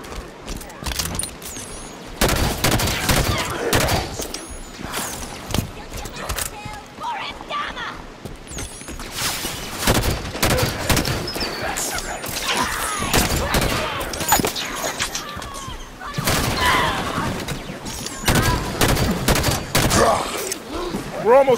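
Sustained video-game gunfire in Halo, dense bursts of automatic fire and sharp shots crackling loudly and continuously throughout, with voices shouting over the combat.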